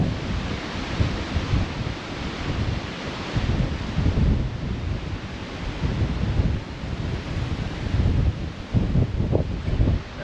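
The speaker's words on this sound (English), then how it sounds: "You can hear that wind." Strong gusty wind roaring outdoors among trees, a loud, constant rushing buffet against the microphone that swells and eases over about ten seconds with no talk.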